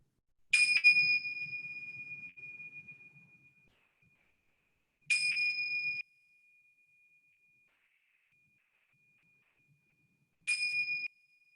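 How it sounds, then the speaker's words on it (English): Three bell strikes open a movement practice in a yoga and qi gong session, each a clear ringing tone with a bright attack and a long fading sustain, spaced about five seconds apart against near silence. "with the sound of 3 bells"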